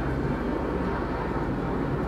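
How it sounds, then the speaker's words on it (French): An airplane passing overhead, heard as a steady, broad rumble that holds evenly throughout, moderately loud and distant, with no talking. "On va laisser l'avion passer."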